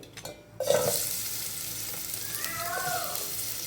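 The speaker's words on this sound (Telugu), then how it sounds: "ఆయిల్ హీట్ ఎక్కిన తర్వాత ఉల్లిపాయ వేయాలండి." Onions hit hot oil for a Telangana chukkakura (spinach-leaf) chutney, setting off a sudden loud sizzle after a brief quiet moment, then a steady crackling fry that carries on alone.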